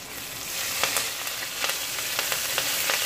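A ground spice paste sautéing in a pan for a Kerala sardine curry, a continuous bright sizzle with repeated light scrapes of a spoon throughout.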